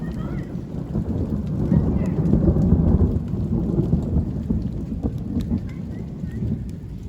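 Summer thunderstorm with a deep rumble of thunder swelling and fading over steady rain pattering on surfaces, fairly loud and continuous, no voices heard.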